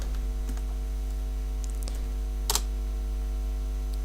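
Light computer keystrokes typing words into a form, sparse and faint, with one louder cluster of clicks, over a steady electrical hum.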